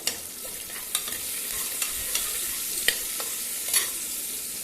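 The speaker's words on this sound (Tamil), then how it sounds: "வெங்காயம் ஓரளவுக்கு வதங்கி வரட்டும்" Onions sauté in a pan for vegetable kurma with a constant bright sizzle, broken by several sharp spatula clicks and scrapes against the pan.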